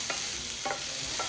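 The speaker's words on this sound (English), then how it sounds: "Now we're gonna fry off the garlic until it's fragrant." Garlic frying in a pan with oil after potatoes, a steady close sizzle broken by three short scraping stirs at regular intervals, no talking.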